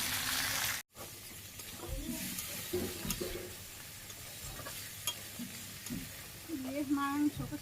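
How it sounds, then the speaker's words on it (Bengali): Chicken curry frying in a pan in a Bangladeshi village kitchen, a soft hiss and stirring scrapes after a brief break, with a voice speaking intermittently over the cooking. "মাংস কষানো হয়ে গেছে, সুন্দর করে লাল লাল হয়ে গেছে, জল দিয়ে দিই।"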